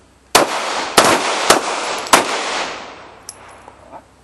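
Four sharp pistol shots crack out at a practical shooting range, evenly spaced about half a second apart, each ringing into a short echoing tail, followed by fainter clicks.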